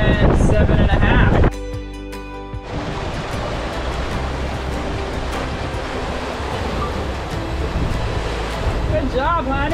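Leopard 44 sailing catamaran reaching on a beam wind under a single reef, with steady rushing water and wind noise throughout and a loud gust of wind buffeting the microphone at the start.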